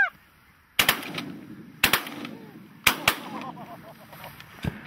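Shotgun blasts during a snow goose hunt, three loud sharp shots each followed by a quick second report, fired close amid honking geese.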